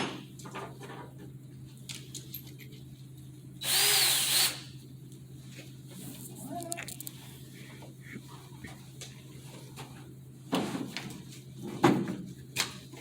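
Power drill driving two screws with a Phillips bit during cable TV and internet installation, a loud buzzing burst near the start, then short faint whirs and clicks later, close by against a steady low hum.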